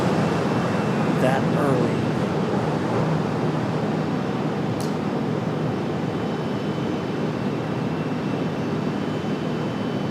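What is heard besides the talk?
airplane landing at Raleigh-Durham airport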